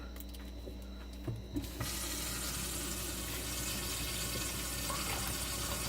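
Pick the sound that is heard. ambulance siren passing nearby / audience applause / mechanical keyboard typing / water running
water running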